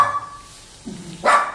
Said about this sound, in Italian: Oggi il cagnolino è un po' agitato.